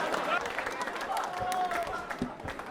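An audience claps at a quiz show event for accounts officers, a dense wash of applause at moderate loudness with a voice speaking over it.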